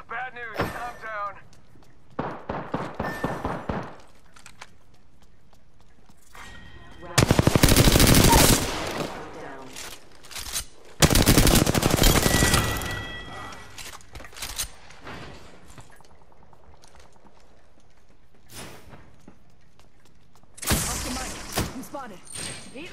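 Rapid bursts of R-301 rifle fire in the game Apex Legends, two long loud volleys near the middle and another near the end, between stretches of talk and quieter in-game sounds.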